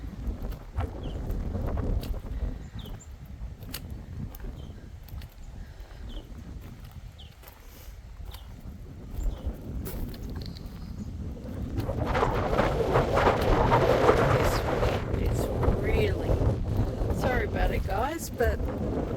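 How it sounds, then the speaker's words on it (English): Strong gusty wind buffets the microphone outdoors in a cemetery near Kaniva, a steady low rumble that swells louder in the second half, with no clear talk. "the wind is really bad."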